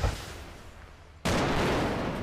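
Gunfire in the video game ArmA 2 Operation Arrowhead: a quieter rumbling stretch, then a sudden loud burst of sustained, dense shooting that fills the rest of the moment.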